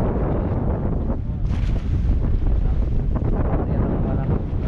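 Strong wind roars and buffets across the microphone out on open water, a dense, gusty rush that swells partway through.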